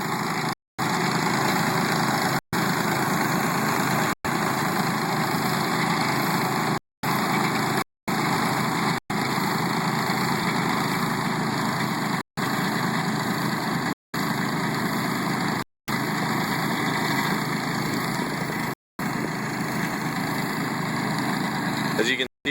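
A solid tine aerator works golf greens, its engine a steady, loud mechanical drone with a vibrating churn. The noise runs continuously, broken only by several very short, sharp dropouts.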